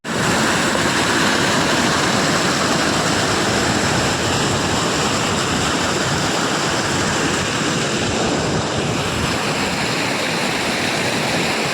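Swollen Raval river water rushes continuously during rain, giving a loud, dense, steady roar that holds without a break and drowns out everything else.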